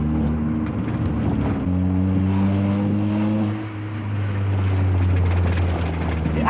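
A car fitted with an entire new exhaust system, held together temporarily with clamps, drones loudly and steadily at high revs, its deep engine note sustained with slight pitch shifts over several seconds.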